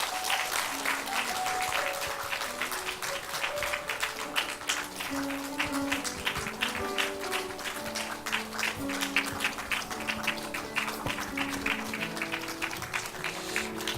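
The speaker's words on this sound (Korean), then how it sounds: "자 이제 우리 퇴장할 때 박수로 환영하겠습니다." Congregation at a Sunday morning church service claps steadily in a sustained rhythmic round while music plays beneath, the applause staying even and fairly close throughout.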